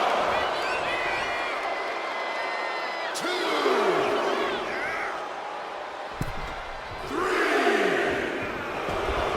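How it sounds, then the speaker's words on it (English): A wrestling arena crowd in WWE 2K25 roars and cheers continuously, with swells of whooping and a couple of sharp impacts, while a commentator talks over the noise. "And Rocky is revving this crowd up."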